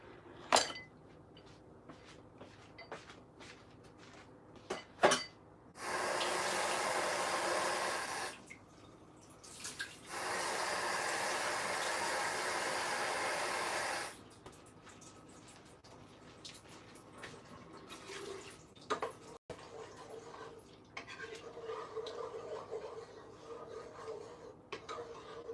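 Water from a tap runs into a pan of sauce in a home kitchen, with two steady pours of several seconds each between faint clinks of utensils and pan handling; quiet, no talking.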